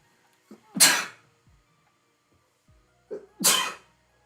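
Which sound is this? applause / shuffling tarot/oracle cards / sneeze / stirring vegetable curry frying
sneeze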